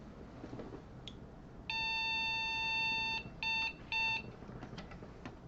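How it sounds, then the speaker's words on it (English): An IBM 5150 PC beeps at power-on with a long tone followed by two short beeps, faint and pure over a steady background hum, with no talking. "we'll power him on and listen to it beep at us again"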